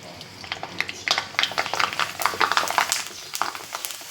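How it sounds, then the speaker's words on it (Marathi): Kurdai dropped into hot oil crackle and pop in dense, uneven bursts that swell and fade, fairly close and loud. "तेल गरम झालं आता कुरडाई तळून घेऊ आपण"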